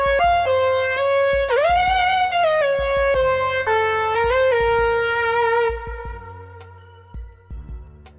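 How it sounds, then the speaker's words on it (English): Xpand!2 synth lead line, stacked and shaped with the mod wheel, plays a bright, sustained melody of gliding, bending notes with a reedy, siren-like tone, loud and up front, fading into sparse notes near the end, with no talking. "And the lead line that I came up with sounds like this."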